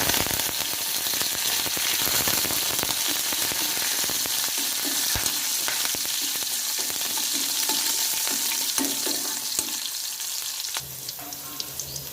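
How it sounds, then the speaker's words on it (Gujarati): Mustard seeds and cumin splutter in hot oil with a dense, steady crackle and sizzle throughout, loud and close, easing slightly at the very end, with no voices. "આપણે રાઈને જીરું તતરવા દેવાનું છે।"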